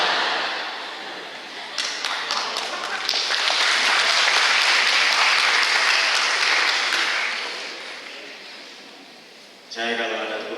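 Sustained audience applause at an Islamic lecture, swelling to a dense peak for several seconds and then tapering off before speech resumes.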